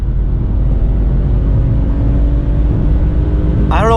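A stock BMW 335i pulls hard down a quarter-mile drag strip, its engine a loud, steady rumbling roar heard from inside the car, with a brief whine near the end.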